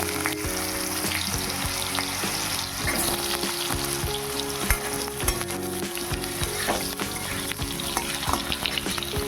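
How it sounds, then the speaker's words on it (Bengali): Potatoes frying in hot oil with cumin seeds and dried chilli in a wok, a steady, dense sizzle with occasional stirring scrapes, close and loud throughout with no voices. "এবার দিয়ে দিচ্ছি আলুগুলো।"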